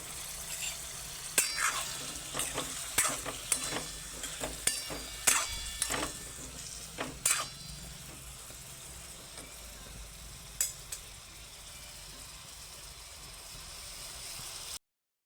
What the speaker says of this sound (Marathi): इथे मस्त बघा आपली भाजी जी आहे ती मसाल्यांमध्ये आता परतते